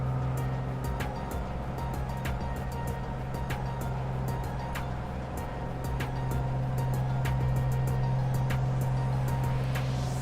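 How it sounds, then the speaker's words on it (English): Loud aircraft engines drone steadily on a night flight over Iceland in Microsoft Flight Simulator 2020, a constant windy roar with a strong low hum and repeated faint ticking clicks laid over it. "It's those loud, windy engines."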